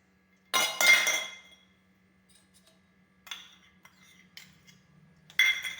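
Spoon scraping and clinking against a pot while ingredients are stirred together for a lime pickle, a few separate bursts of metallic clatter and scraping with quiet pauses between them.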